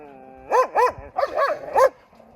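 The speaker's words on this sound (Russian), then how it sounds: "А говорят, что гибриды во втором поколении не лают. Вон они как облаивают." Second-generation wolfdog hybrids give about five loud, close barks in quick succession. The barks are high and tonal, almost yelping, with short gaps between them.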